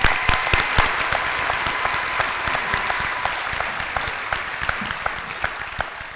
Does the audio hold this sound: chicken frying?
no